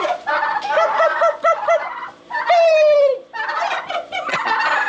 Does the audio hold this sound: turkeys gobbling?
yes